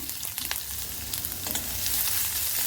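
Onions, curry leaves and dried chili sizzle in hot oil in a pan, a steady close frying crackle with stirring clicks, growing slightly louder toward the end, with no talk.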